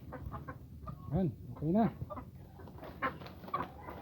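Chickens in a small backyard coop cluck and squawk, with two loud, rising calls standing out above a busy background, while people talk nearby.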